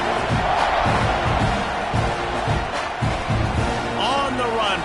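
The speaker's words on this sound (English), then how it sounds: "You can hear this home crowd going bananas." A football home crowd roars after a punt return, a broad rumbling cheer with bursts of shouting, while a commentator talks over it.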